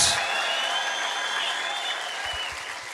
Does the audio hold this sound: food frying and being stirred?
no